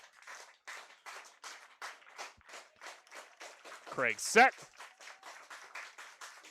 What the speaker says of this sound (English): The claps beginning again